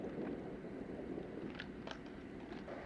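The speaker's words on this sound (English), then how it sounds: "Very windy." Strong wind buffeting an outdoor microphone at a skate spot, a steady low rumbling roar with gusty swells throughout, heard alone and fairly close.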